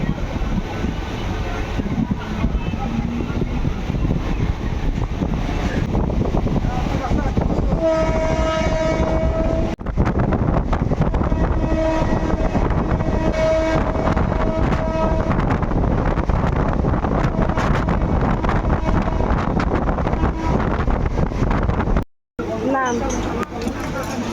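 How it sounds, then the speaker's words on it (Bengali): A passenger train running between Agradwip and Patuli rumbles loudly and steadily, heard from on board, with drawn-out horn blasts in the middle and a brief cut in the sound near the end. "আমাদের ট্রেন এখন অগ্রদীপ ছেড়ে এখন আছে পাটুলিতে"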